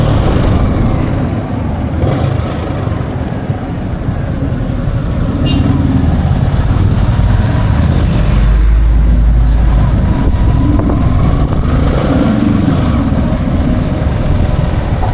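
Steady road traffic hums around riders on big bikes near SM Nuvali, with low engine rumble and idling vehicles throughout, loud and close, with talk under the din.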